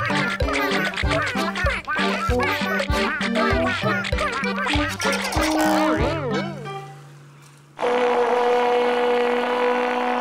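Ducks quack in a dense, loud, rhythmic run of calls, then fade and drop out, leaving a steady hum with tones.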